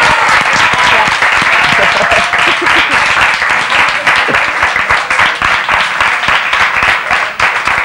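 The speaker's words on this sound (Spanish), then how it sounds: "quiero que le demos un fuerte aplauso a nuestra invitada de lujo de hoy" Studio audience applauding a guest on a Spanish TV music show, dense steady clapping filling the whole stretch at high level, with no break and no voices on top.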